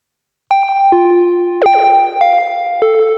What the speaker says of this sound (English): modulated after a amp reverb, spring amp reverb.